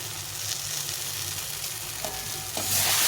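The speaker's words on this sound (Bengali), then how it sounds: "আলুটাকে একটু ভেজে নেবো মশলার সঙ্গে" Potato pieces fry with spices in a pan, giving a soft, steady sizzle at moderate volume that swells a little louder near the end.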